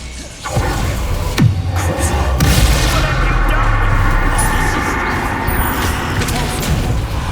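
Bombarda spell explosions in Hogwarts Legacy during combat: a couple of sharp booming blasts with whooshing debris, followed by a sustained loud roar of crashing and rumbling that slowly fades.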